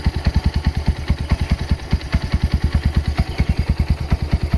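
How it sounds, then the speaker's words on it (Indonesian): A restored Kawasaki Binter Merzy KZ200 motorcycle engine idles steadily nearby, its low, even putter pulsing rapidly with a light mechanical clatter, no voices. "kalau Pinter Mercy itu suaranya mesin itu halus"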